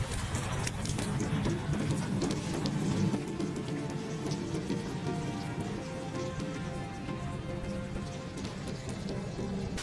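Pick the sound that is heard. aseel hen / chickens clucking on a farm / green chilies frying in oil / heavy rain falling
heavy rain falling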